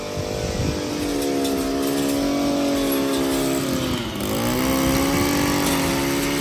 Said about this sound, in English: don't stand next to a weed whacker. It launches rocks at you and everything else